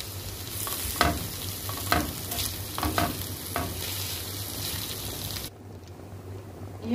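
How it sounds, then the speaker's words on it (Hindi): Shawarma filling sautéing in a pan, a continuous sizzle and fry with a spoon scraping and breaking up the mixture in several distinct strokes, close and moderately loud, fading to quieter cooking near the end. "अब हम इसको 2 से 3 मिनट जो है वो भूनेंगे अच्छे से।"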